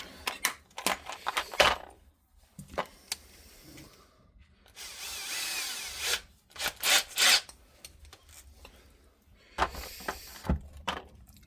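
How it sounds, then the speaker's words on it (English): Intermittent rasping and grinding of a drill at low speed boring into steel held in a vise, coming in bursts with pauses, close and moderately loud, with knocks between. "drilling steel low speed"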